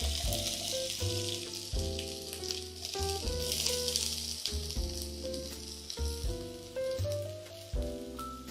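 Chopped onions sizzling with garlic in a pan, a steady close crackle with stirring scrapes, while a musical backdrop plays underneath.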